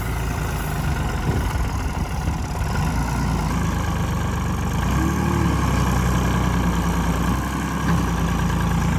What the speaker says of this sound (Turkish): diğer tarafı deneyelim bakalım. Oradan çıkacak mı traktör?